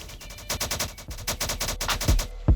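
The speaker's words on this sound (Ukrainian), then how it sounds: "А, тю, це ті стріляють." Enemy gunfire in the shooter S.T.A.L.K.E.R.: Spatial Anomaly, a rapid run of automatic bursts with steady rhythm, fairly close and loud, ending in two heavier booming shots.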